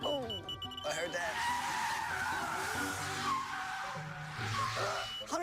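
A car's tires squeal continuously, loud and close, the pitch bending up and down as the vehicle slides, with voices briefly heard beneath the noise.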